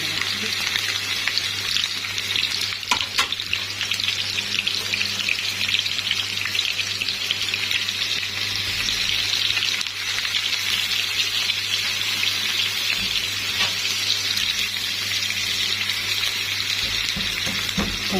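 Pieces of bessara frying in hot oil, a fresh batch dropped in, make a loud, continuous sizzle and crackle that holds steady throughout with a low background hum.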